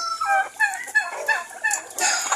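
A turkey gobbles in a rapid, warbling series of calls on a farm with ducks and chickens, fairly close and loud, with no talking over it.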